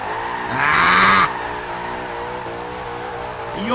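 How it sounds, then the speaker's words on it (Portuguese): In Forza Horizon 2, a McLaren P1 drones with a steady engine tone while its tires break into a short, loud screeching skid, then the engine carries on alone. "O carro não para de patinar"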